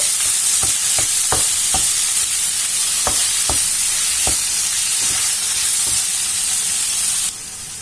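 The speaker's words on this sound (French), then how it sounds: "je continue de mélanger et écraser en même temps" Butternut squash frying in a pan while being stirred and mashed, with a constant loud sizzle and about ten sharp spatula scrapes and knocks at an uneven pace. No voices.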